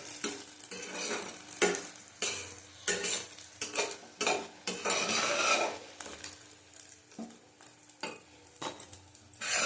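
Eggplant slices fry in a karahi of oil with a bubbling sizzle, punctuated by repeated metal utensil clinks and scrapes against the pan, close and fairly quiet.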